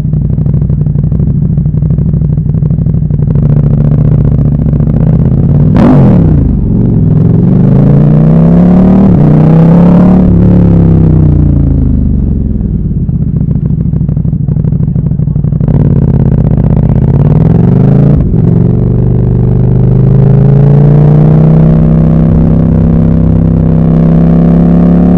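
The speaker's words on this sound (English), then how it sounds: "I can never say no to a rev request." A KTM 1290 Super Duke R engine is revved on a London street, loud and close, with rising and falling throttle blips over a rumbling idle and a few sharp cracks from the exhaust.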